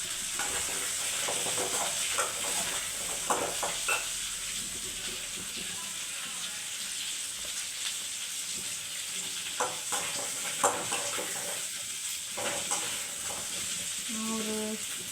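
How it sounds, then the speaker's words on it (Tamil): Green chillies sizzle and hiss steadily in a hot pan for fish curry, with the occasional stir and scrape of a utensil, at moderate volume and close by, under a few quiet spoken words. "இதை நல்லா வதக்கிக்கலாம்."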